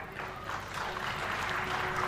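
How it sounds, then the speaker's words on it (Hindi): Audience clapping at a Hindi religious discourse, a continuous soft patter of many hands heard from a distance, fairly faint, with no voices. "क्या हुआ अभी जो आपने ताली बजाई?"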